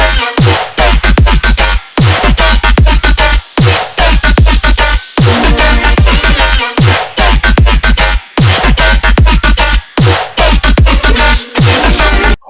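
Dinosaur dubstep bass from Serum in a full mix, loud chopped growls over pounding kick drums and heavy sub-bass, repeating in a driving pattern with short breaks.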